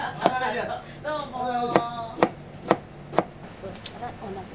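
Green onions are chopped with a knife at a Hakata yatai food stall: several sharp, evenly spaced knife strikes on a cutting board, close and crisp, with a voice heard talking between the cuts.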